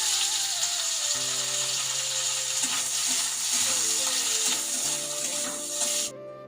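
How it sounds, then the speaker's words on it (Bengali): Fish gills fry in hot oil in a wok with a continuous sizzle, joined by scraping and stirring clatter, before the sound cuts off abruptly near the end. "তেল দিচ্ছি, দিয়ে এবার মাছের ওই কানকোগুলো ভেজে নেব আবার"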